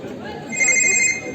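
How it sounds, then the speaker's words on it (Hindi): A mobile phone rings with an incoming call during a college street play, a bright electronic ringtone rising over ongoing voices and stage chatter. "तभी उसके फोन पे उसके पापा की कॉल आती है"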